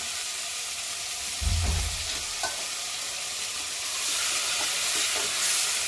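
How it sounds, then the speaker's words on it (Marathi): Mutton sautéing in a hot pan, a constant loud sizzle with a brief low scrape and clatter of stirring near the start, close and uninterrupted by voices. "मटण परतून घेत आहे"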